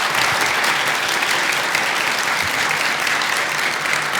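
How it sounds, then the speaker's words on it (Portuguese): An audience at a conference talk on racism in machine learning bursts into loud, sustained applause, dense and even clapping filling the whole stretch without a break. "Uma salva de palmas"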